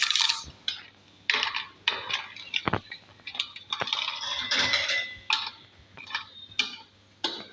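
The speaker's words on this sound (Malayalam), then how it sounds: "പഞ്ചസാര ഇട്ട് കൊടുത്തിട്ട് നല്ലോണം ഒന്ന് കലക്കാം" A spoon stirs sugar into a homemade pizza dough mixture in a bowl, giving a run of light, irregular clinks and scrapes against the bowl, close by and fairly loud, with no voices.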